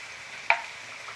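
Spices such as cumin powder and dried red chilli powder being stirred in a cooking pan, heard as a single sharp scrape or clink against a low, steady sizzle.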